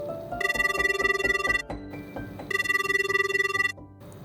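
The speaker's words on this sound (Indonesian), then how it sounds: "Tak lama, HP Bram berdering" A mobile phone rings in two loud bursts of a bright electronic ringtone, each about a second and a half long with a pulsing melody, separated by a short pause, with no one talking.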